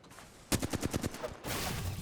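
A short burst of automatic gunfire in Apex Legends, about ten rapid loud shots in quick rhythm, followed by a steady wash of game noise.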